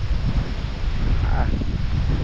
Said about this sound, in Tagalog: Ito, malakas po talaga ang hangin mga ka-farmers.